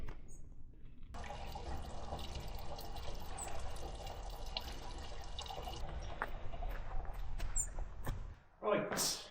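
Fuel glugs and splashes steadily as it is poured from a jerry can with no spout into a farm vehicle, a continuous liquid rush lasting several seconds before stopping, with brief handling noises at the end.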